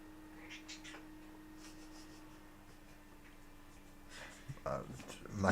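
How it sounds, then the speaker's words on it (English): A cat meows loudly in a home, a few brief yowls rising near the end over a steady background hum, with faint talk mixed in. "My cat's shouting at my children."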